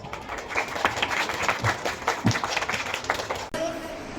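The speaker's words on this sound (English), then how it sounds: "Let's give them a huge round of applause." Students applaud quiz competition winners, with a busy patter of clapping and a murmur of voices mixed in. It cuts off sharply near the end and a quieter room follows.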